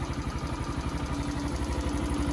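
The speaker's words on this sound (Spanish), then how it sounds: "Como veis, es una moto súper silenciosa." A small, very quiet motorcycle with a top speed of 30 km/h idles steadily nearby, its low even engine hum and light mechanical clatter continuing without a break and with no talk.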